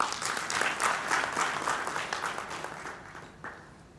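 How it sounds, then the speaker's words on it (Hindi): An audience at a Hindi literary award ceremony claps steadily for a few seconds, the applause full at first and then tapering off toward the end. "अब आप ताली बजा सकते हैं।"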